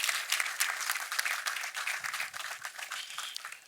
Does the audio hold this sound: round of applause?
yes